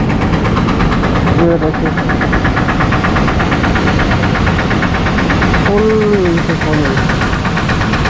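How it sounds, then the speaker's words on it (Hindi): A motorcycle engine runs close by in a Kashmir village, a loud steady knocking idle throb with someone talking over it. "तो बैठा आपको बाइक चला दिखा देता हूँ।"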